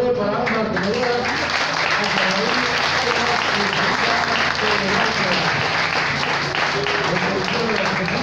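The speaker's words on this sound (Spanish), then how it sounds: "vamos a dar un fuerte aplauso, por favor, para ambas tenedoras" Loud, sustained applause from a live audience at a Spanish-language stage event, steady clapping that fills the whole stretch, with a voice faintly over it.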